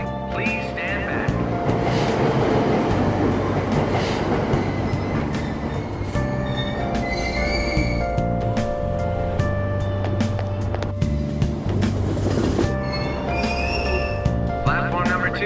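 A Tokyo subway train in Persona 5 Royal rumbles and clacks as it departs, wheels squealing over steady rolling noise, with station announcements and chimes over it.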